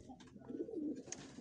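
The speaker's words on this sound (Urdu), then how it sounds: "یہ ہمارا کبوتر ہے، ہمارے کبوتر" Pigeons coo close by, a soft low throaty call swelling and fading over a second or so, with a brief flutter at the end and no one speaking.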